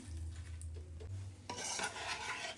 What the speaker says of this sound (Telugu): ఇప్పుడు ఒక్కసారి మిక్స్ చేసుకుందాం